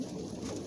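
A crowded breeding pen of roughly sixty pigeons at the start of the breeding season gives a steady, close mass of low cooing and murmuring that runs without a break, with no talking.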